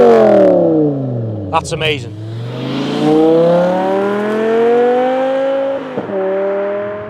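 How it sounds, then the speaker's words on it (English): A BMW M5 E61 Touring with its V10 engine revs hard, the pitch sweeping down then climbing steadily in a long, loud, close rising wail, with a brief burst of talk over it near the start. "this has its glorious sound of V10, famed for one of the best sounding BMWs ever"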